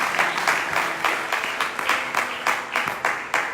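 A church congregation claps in steady rhythmic applause to acclaim the Lord, a brisk run of hand claps close and continuous.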